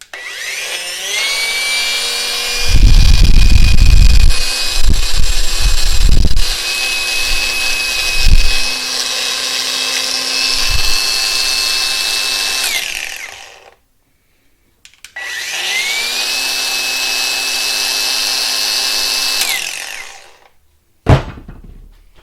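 A Hyper Tough cordless drill with a 2 amp hour battery spinning up, a steady high motor whine held for about ten seconds with bumps and knocks during the run, then a pause and a second long run, close and loud.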